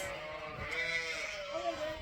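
Sheep bleat in a drawn-out, wavering call at moderate distance on a sheep farm, with a second shorter bleat following over a low background rumble.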